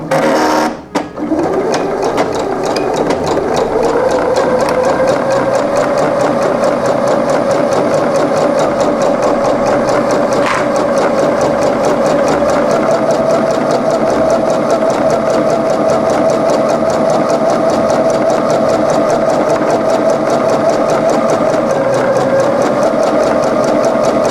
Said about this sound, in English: Then I sew the sides of the sleeves and the bodice together in one go